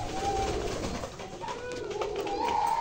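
New pigeons on a farm give soft, repeated coos close by, several short rising calls strung together over a low background hum, with no talking.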